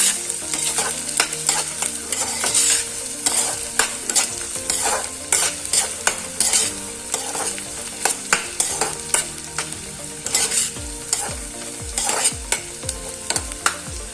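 Carrots, beans and green chilies are stir-fried for fried rice, with a constant hot-oil sizzle broken by frequent sharp spatula scrapes and clacks against the pan. No one speaks.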